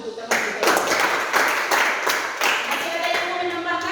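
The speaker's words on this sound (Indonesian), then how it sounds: "kita tepuk tangan untuk teman kita" A classroom of students claps for a classmate, a dense, sustained burst of many hands applauding together at close range, loud and continuous throughout with no talking.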